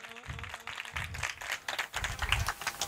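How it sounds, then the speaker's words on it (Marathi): An audience at a school reunion event claps in uneven bursts to welcome a teacher, moderately close, with some background murmur. "सर्वांनी टाळ्या वाजवून सरांचं स्वागत करावं"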